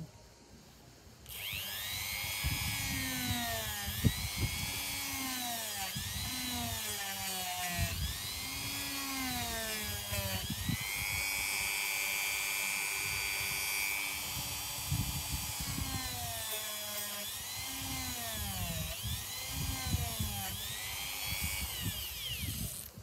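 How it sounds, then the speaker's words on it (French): A small drill bores a hole in a ring while making bracelets and rings, whining in repeated rising and falling bursts, close and fairly loud, with a brief steady high pitch midway. "il va falloir que je change de mèche en fait, en mettre une plus petite parce que cet anneau est plus petit"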